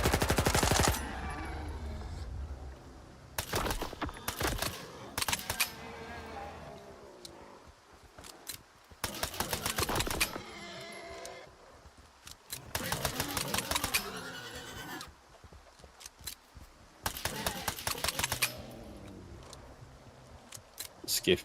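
Rapid bursts of Skiff pistol gunfire ring out in a video game, several clusters of fast, sharp shots separated by quieter pauses, loud and close.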